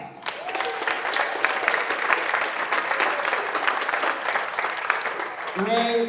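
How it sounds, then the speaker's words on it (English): An audience at a youth orchestra concert breaks into sustained applause as orchestra member Ray walks out, a full, steady roar of clapping lasting several seconds before it cuts off and a voice begins speaking. "Give Ray a round of applause."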